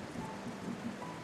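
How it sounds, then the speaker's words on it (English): In the game Tower of Fantasy, rain falls as a soft, steady patter and hiss, faint and even throughout the short stretch. "It's raining."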